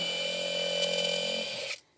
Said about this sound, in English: then I'm gonna go ahead and drill my hole.